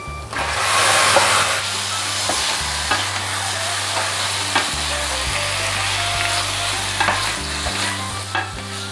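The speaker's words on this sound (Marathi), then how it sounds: "आता यावर हे मॅरिनेट केलेलं मटण घालून घेते।" Marinated mutton sizzles and fries over onions in a pan for a spicy Ghati mutton curry, with close, loud, steady hissing, stirring scrapes and a low background hum, no talking.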